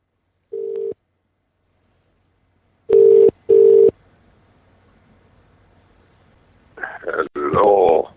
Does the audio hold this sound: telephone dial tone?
yes